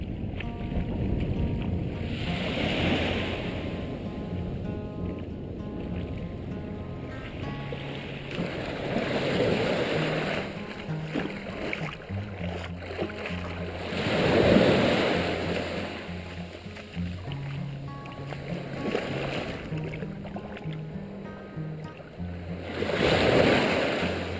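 Ocean waves at Kurrimine Beach wash in repeated surges a few seconds apart over steady wind noise, with no talking.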